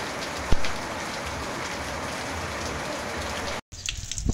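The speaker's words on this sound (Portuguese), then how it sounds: "Muita chuva mesmo em Lajedo." Steady, continuous rain falling in Lajedo, a dense even hiss on surfaces with one brief louder knock near the start, then a short cut to a quieter patch of rain at the end; no voices.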